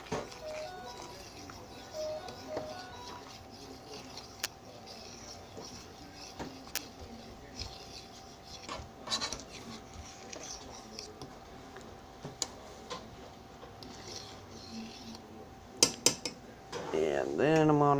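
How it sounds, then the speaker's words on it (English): Baked scrambled eggs are stirred in a dish partway through baking, with soft scraping and scattered light clinks of a utensil against the dish, moderately close, over a steady low background, ending in a louder burst of clatter. "Let's stir them up a little more."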